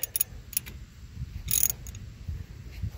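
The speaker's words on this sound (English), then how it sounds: "start by using your hand, then the wrench, of course, 14mm." A 14mm wrench tightens a brake bolt on a car, producing a few brief, sharp metallic ratchet clicks over a low background rumble, close and fairly quiet.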